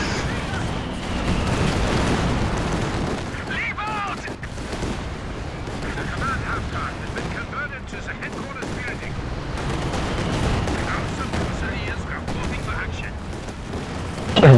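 Katyusha rocket artillery barrage in Company of Heroes 2, a continuous rumble of booms and gunfire across the clip, with voices talking over the battle noise.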